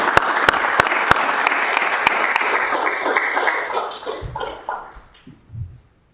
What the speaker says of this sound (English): we need to give everybody a round of applause for that.